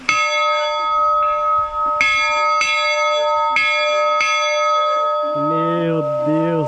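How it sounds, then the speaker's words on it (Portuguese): A church bell rings in a tourist town, several loud evenly spaced strikes with long ringing overtones, followed near the end by a wavering whistle-like tone. "Além do sino."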